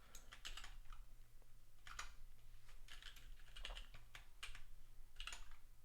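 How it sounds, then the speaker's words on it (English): Computer keyboard typing during a coding session: quiet, close, irregular bursts of clicking keys with short pauses between runs. "I'm just incredibly bad at copy pasting on this keyboard."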